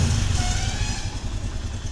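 A Hero iSmart 110cc motorcycle engine idles steadily in neutral up close, a low continuous rumble with a faint mechanical clatter throughout.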